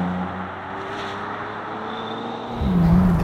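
Bentley Continental GT Convertible with its W12 engine, heard from inside while driving: a steady low engine drone that swells louder near the end as it pulls harder.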